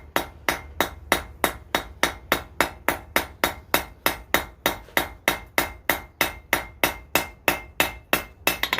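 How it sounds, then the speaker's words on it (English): Hand hammer forging a steel hairstick, sharp metallic blows landing in a fast, steady rhythm of about three strikes per second, each ringing briefly, close and clear without talk. "Try to keep the hammer face from leaving edges knocked into it."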